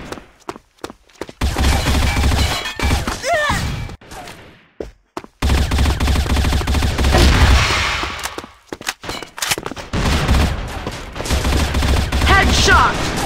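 Rapid bursts of automatic gunfire from the Free Fire video game, several loud volleys separated by short silences, with sharp game sound effects mixed in and no voices.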